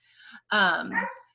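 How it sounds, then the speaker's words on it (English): A pet dog in a home lets out a short whine followed by one loud, close bark, with a softer yelp trailing off. "I know you guys can hear my dog and a crying baby"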